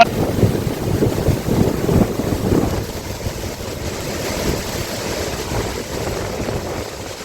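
Waterfall at Mahendragiri in misty, cloudy weather, heard as a steady broadband roar of falling water mixed with wind buffeting the microphone, louder in the first few seconds and then holding even.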